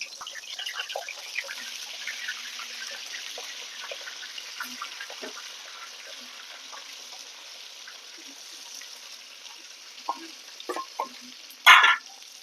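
Stuffed brinjals fry in a few spoonfuls of hot oil, a faint continuous sizzle with occasional light stirring clicks and a sharper clatter near the end.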